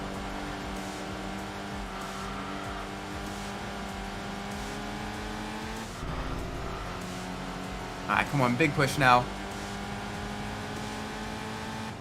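A Volvo V70R's engine in the racing game Enthusia Professional Racing drones steadily as a layered, harmonic hum under a brief spoken line. Short chirping effects flutter near the end.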